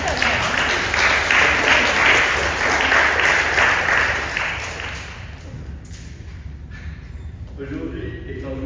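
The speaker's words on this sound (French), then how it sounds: "Vous avez même le droit d'applaudir marraine" Congregation applauding a godmother during a Protestant Sunday service in a church, a dense burst of clapping that fades after about four seconds as a voice begins speaking.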